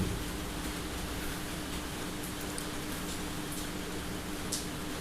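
Light rain falls steadily outdoors, a constant, even hiss of drops with no talking and a few slightly sharper patters now and then.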